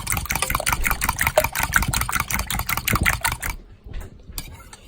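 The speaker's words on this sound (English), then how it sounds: "I like to use a fork. I don't usually use a whisk. So we're just gonna scramble these all up together here" Eggs being scrambled with a fork in a bowl for a sausage, egg and cheese casserole: fast, steady clicking and tapping of metal against the bowl with a wet churning edge, close and alone, stopping abruptly near the end.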